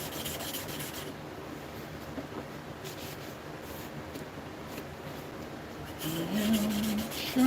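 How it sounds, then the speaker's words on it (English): A hand plane blade is sharpened by hand, a steady, soft, continuous rubbing and scraping close by that keeps an even pace throughout, with a slight swell near the end. "Sharpening."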